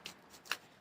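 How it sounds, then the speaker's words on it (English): Tarot cards shuffled in two quick riffling bursts, close and fairly soft, with no voices. "Let's shuffle it out."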